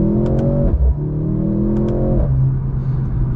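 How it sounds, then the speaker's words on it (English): A Mercedes-AMG C43 engine drones loudly while accelerating, broken by two quick upshifts, each marked by a brief exhaust burp before the pitch climbs again, heard from inside the car with no talking. "I love the burps on the upshift"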